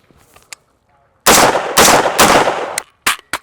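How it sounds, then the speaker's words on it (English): Unsuppressed semi-automatic rifle at a range firing loud, sharp reports: three booming shots close together, then two quicker cracks, each with a brief ringing tail and near silence before. "Semi-automatic rifle, unsuppressed."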